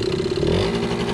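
A quad ATV engine revs briefly under light throttle, a steady close mid-pitched drone with a slight rise and clatter over about a second, with no talking.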